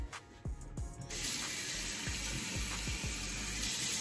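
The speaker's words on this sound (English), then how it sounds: "About to rinse it out real quick for y'all." Tap water runs steadily into a sink to rinse off a sea moss face mask, starting faintly and then gushing loudly and evenly, with a few small knocks and clinks under the flow.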